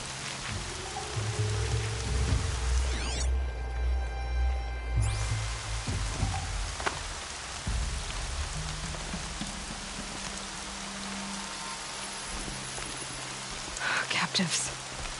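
Rain falls steadily in the video game Horizon Zero Dawn, a continuous hiss of drops with low rumbling tones beneath, moderately loud, and a voice speaks softly over it.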